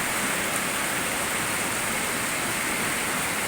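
Steady rain falls outdoors, a dense, continuous wash of droplets at even loudness throughout, with no voices.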